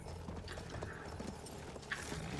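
Horse hooves gallop in the video game Battlefield 1, a quick run of clip-clop beats at moderate loudness heard alone without talk.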